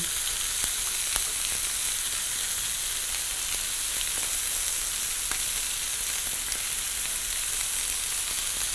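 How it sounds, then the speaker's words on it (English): Chicken thighs sizzle steadily in a frying pan with garlic, a constant close crackling hiss with small pops and no voices. "while your pan continues to sizzle away"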